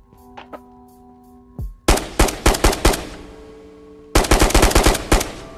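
A Galil rifle being racked in the game Tabor, heard as two sharp bursts of rapid metallic clacks, first a quick cluster and then a denser run of clicks, loud and close with no talk.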